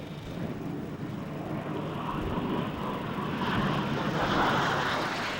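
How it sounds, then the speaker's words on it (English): Meteor and Vampire jet aircraft at a 1997 carnival airshow in Swanage, a steady, loud engine roar that swells slightly as the jets pass, with no talk over it. "The Meteor and the Vampire, two very distinctive aircraft from Jet Heritage Charitable Foundation"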